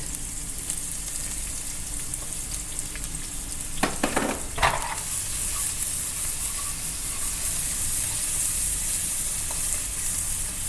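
Ginger and garlic fry in hot oil for a lobster udon dish, giving a steady, close sizzle throughout. A few sharp utensil scrapes and clacks of stirring break in near the middle.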